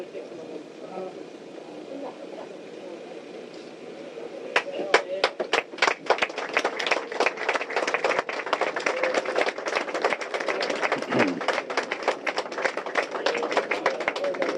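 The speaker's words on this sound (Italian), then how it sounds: "ecco l'applauso che ha salutato il lancio della corona" Crowd applause at an outdoor commemoration as descendants lay a tricolour wreath, starting with a few sharp claps, then swelling into sustained, dense clapping, while a commentator talks over it.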